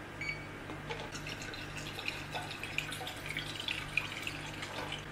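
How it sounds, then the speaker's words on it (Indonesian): Water, 200 grams of it, trickling into a KRIS coffee maker, heard as quiet, intermittent drips and splashes against a low, steady background hum. "Gue masukin airnya 200 gram."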